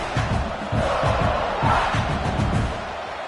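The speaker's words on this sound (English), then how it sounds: "This crowd, full throat, spreading the eardrums and letting them know it's going to be a long day." A football stadium crowd roars at full volume, a dense, sustained wall of cheering and yelling that swells and holds throughout.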